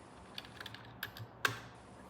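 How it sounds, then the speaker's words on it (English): Typing on a computer keyboard in a quiet living room, a few soft scattered keystrokes ending with one sharper clack. "The only sound is my keyboard."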